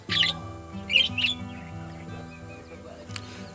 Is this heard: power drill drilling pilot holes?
no